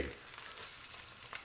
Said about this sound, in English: Let's flip the egg.